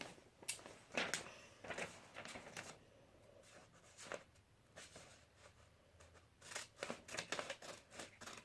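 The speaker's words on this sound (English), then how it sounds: "I just need my scissors for something." Scissors snipping paper while a paper airplane is being folded, a quiet series of short, close crisp cuts in bursts with pauses between.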